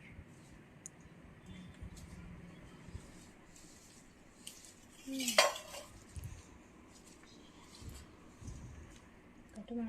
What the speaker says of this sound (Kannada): ಆಮೇಲೆ ಚಿಪ್ಸ್ ಹಾಕಿ ಚೆನ್ನಾಗಿ ಮಿಕ್ಸ್ ಮಾಡಬೇಕು